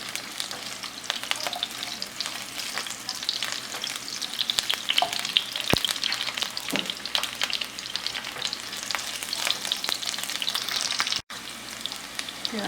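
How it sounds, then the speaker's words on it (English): Garlic fries in hot olive oil with a dense, steady sizzle and crackle throughout, plus faint stirring clicks close by, no voices. "Just go ahead and drop the garlic and let it light brown."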